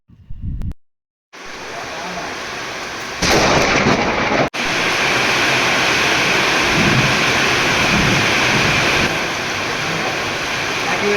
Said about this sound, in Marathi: या ठिकाणी पोहोचल्यानंतर पावसाला खूप अशी सुरुवात झाली